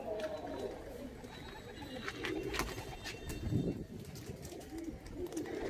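Pigeons coo in an Andhra high-flyer loft, low soft burbling calls repeating through the clip amid a busy background, with people talking nearby.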